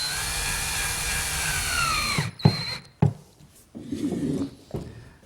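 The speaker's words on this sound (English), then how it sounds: "Now we can secure everything with a few screws." Power drill driving screws into solid oak desk parts for a Mission-style desk: a high whirring run that winds down, then a few short bursts of drilling separated by pauses.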